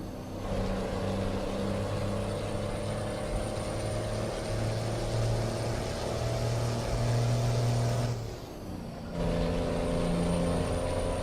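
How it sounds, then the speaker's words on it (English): A heavy hauling truck's engine drones at a steady, loud idle with a low rumble, briefly dipping as it shifts near the end before resuming; no speech. "I love the sound of this truck. It sounds so good."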